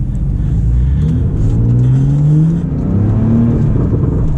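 Tuned Porsche 911 Carrera T making around 470 horsepower accelerating hard from inside the cabin, a loud steady engine drone whose pitch climbs through a gear, dips at a shift, then rises again.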